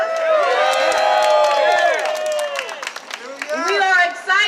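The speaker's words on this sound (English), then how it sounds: "Can we give them a round of applause?" A crowd at an End Solitary Confinement rally cheers, whoops and claps loudly and continuously for advocates of the Halt Solitary Confinement Act, the shouting voices rising over steady applause before thinning out.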